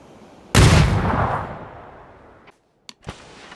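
One loud, sharp shot rings out in PUBG on the Mylta Power map, and its echoing tail fades over about two seconds. A couple of faint, brief clicks follow.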